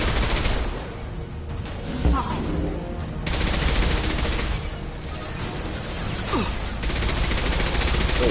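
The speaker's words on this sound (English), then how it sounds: "Forgot how much I love incendiary rounds." Sustained automatic gunfire with incendiary rounds in a video game fills the scene, a dense continuous rattle broken by short lulls, with a voice talking over it.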